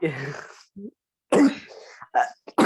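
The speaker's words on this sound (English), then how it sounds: "Sorry, I have cough." Someone talks, then coughs a few times in short, harsh bursts close to the mic, with brief pauses between.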